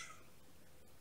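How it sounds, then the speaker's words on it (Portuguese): A cat with a cracked leg bone gives a brief meow at home, a single short faint call over quiet room tone. "tá aí o gato miando."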